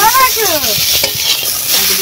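Fish coated in onion paste with grated onion and chilli powder frying in oil, a steady close sizzle running throughout with faint stirring clatter beneath.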